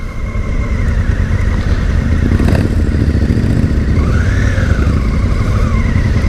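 A 2017 Honda Africa Twin motorcycle engine runs loud and close, a continuous throaty rumble that rises and falls as it is revved, with a brief clatter near the middle.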